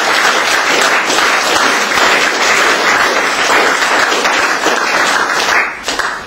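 Audience applause at an evening UN International Day of Peace event honoring volunteers, a dense, loud, steady wash of clapping throughout that starts to thin out near the end.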